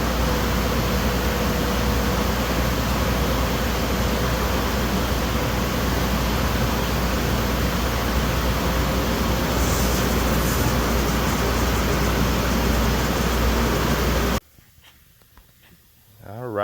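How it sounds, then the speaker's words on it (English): A big sander working a wooden countertop makes a loud, steady, rough whir with gritty friction noise for about fourteen seconds, then stops abruptly, leaving near-silence. "we just finished with the big sander"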